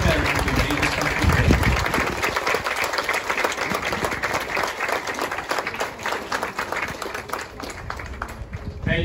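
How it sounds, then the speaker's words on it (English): An audience at an outdoor military-style graduation ceremony applauds the veterans present, a broad sustained clatter of many hands that stays fairly loud throughout and thins slightly toward the end. "Please join us in a round of applause for the fine veterans who made this country"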